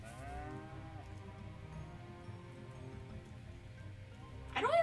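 A strange cow in an indie video game gives low, drawn-out moos over steady game music, ending with a louder, brighter burst.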